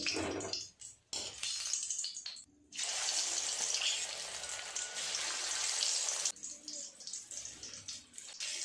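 Pieces of pangas fish sizzle in hot oil in a wok, a steady broadband hiss that swells loud for several seconds, with quieter crackling before and after.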